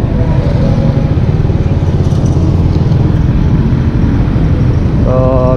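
A Yamaha Mio scooter with a starting fault runs roughly and loudly up close, a steady pulsing engine drone that sputters unevenly, with a brief tonal whine near the end.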